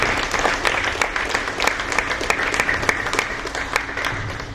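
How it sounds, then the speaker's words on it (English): Audience at a high school parent activity meeting claps for the school coaches, a dense, steady round of applause from a room of people lasting several seconds without pause. "just a round of applause for our coaches"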